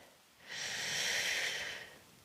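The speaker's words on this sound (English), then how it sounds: "Big breaths in, exhale round for 3" A single deep breath during a stretching exercise for runners: a long, steady breathy rush that swells and fades over about two seconds, close and fairly loud, with no talking.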